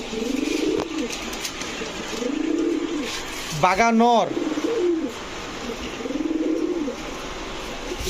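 High-flyer and racer pigeons coo in low, repeated rolling phrases, with someone talking over parts of it and a brief harmonic sound breaking in midway.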